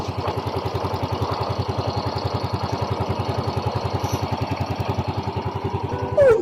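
A Yamaha Mio Soul i 125 scooter engine idles steadily with an even, rapid putter, close by and continuous throughout.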